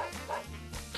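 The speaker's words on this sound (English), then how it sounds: "That's a dog that kills us" A dog in the Garfield: Caught in the Act video game gives a few quick, close barks in a short, loud burst.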